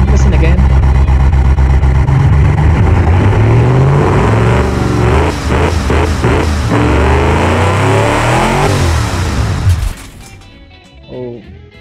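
A custom-built engine roars loudly and continuously, revving with shifting pitch, then cuts off abruptly near the end, leaving a faint sputter; a voice talks over it.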